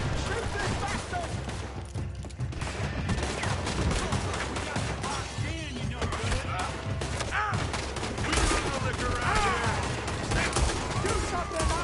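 Dense gunfire in the Western video game Red Dead Redemption II, a sustained fusillade of overlapping shots and bursts that goes on throughout, loud and close, with shouted voices mixed in.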